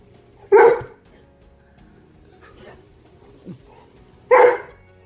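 Two loud, sharp dog barks close by, several seconds apart, with near silence and a faint low rumble in between.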